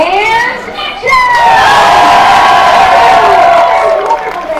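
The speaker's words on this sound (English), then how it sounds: "don't forget the thunderous applause for yours truly" Audience aboard Walt Disney World's Great Movie Ride at Disney Hollywood Studios cheers, shouts and applauds on cue, a loud, steady crowd roar with children's whoops rising after the first second and holding to the end.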